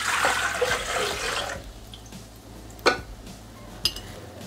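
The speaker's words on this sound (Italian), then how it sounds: "Iniziamo la ricetta mettendo all'interno del boccale l'acqua." Water pours into the mixing bowl of a Thermomix TM6 kitchen machine in a loud splashing stream for about a second, followed by quieter dribbles and two sharp clinks.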